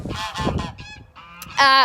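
A goose sitting on duck eggs gives a quick series of loud, nasal honks close by, ending in one longer, harsher call.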